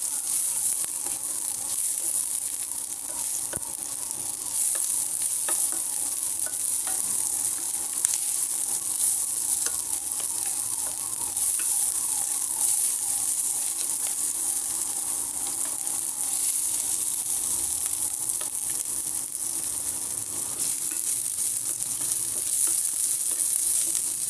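Onions fry in a pan with chillies for a poppy-seed dish, giving a steady, loud sizzle and crackle that continues without a break. Occasional stirring scrapes cut through the sizzle, and no one speaks.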